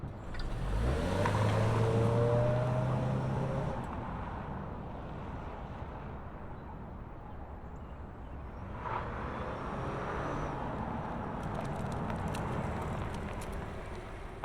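2025 Mazda CX-50 Hybrid SUV, Premium Plus trim, starting up and rolling off: a brief rising engine note, then a steady broadband rumble of driving with road and wind noise, fairly loud and continuous with no talk.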